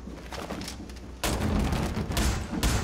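A sniper rifle shot in Rainbow Six Siege cracks loudly partway through, fired from a distance into a building. Quieter rumbling comes before it and another sharp report follows near the end.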